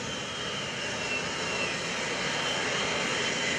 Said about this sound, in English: You'll see the KC-135 from the 157th Air Refueling Wing